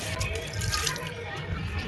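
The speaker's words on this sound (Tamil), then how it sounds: "இப்போ கறி வேகிறதுக்கு கொஞ்சமாக தண்ணி சேர்த்துக்கலாம்." Water poured into a pressure cooker holding peas and beef gravy, a short close splashing pour that runs steadily.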